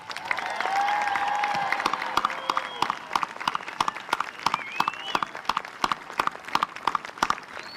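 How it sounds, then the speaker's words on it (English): At a 2022 high school graduation, the crowd applauds the graduates with steady, rhythmic clapping that rings through the hall, with a faint whistle or cheer early on. "How about a round of applause for all of our graduates?"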